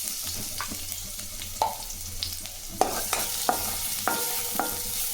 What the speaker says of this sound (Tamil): செவந்து வர வரையும் வறுத்து எடுத்துக்கலாம்